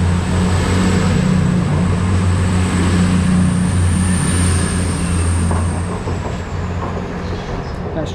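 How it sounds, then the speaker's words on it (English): An East Midlands Railway class 222 diesel passenger train rolls through Derby station with a loud, steady rumble and engine drone, easing slightly toward the end. "222018 heading over on the 1311 East Midlands Railway service to Sheffield"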